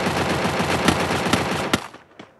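Rapid bursts of automatic gunfire from a Free Fire battle royale match, dense and loud through most of the stretch, with a few sharper isolated shots before tapering off near the end.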